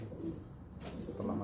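A pet dove or pigeon gives soft, low coos, two close phrases heard alone over about a second and a half.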